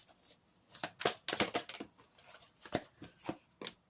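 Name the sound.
tarot cards being shuffled and drawn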